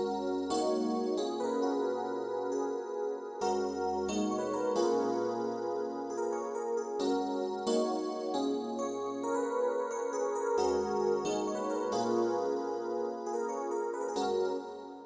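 A PluggnB beat with a soulful feel, its top melody played over a chord progression: bright, layered synth notes in repeating phrases over sustained chords and a low bass, clean and alone with no voices.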